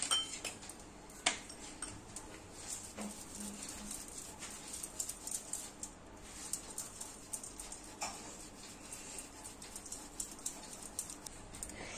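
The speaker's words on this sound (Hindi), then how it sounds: "अब हम इसमें बॉइल्ड आलू ग्रेट" Boiled potatoes are rubbed over a kitchen grater for poha balls, giving quick, faint scraping strokes in an uneven, repeating rhythm up close, with light clinks now and then.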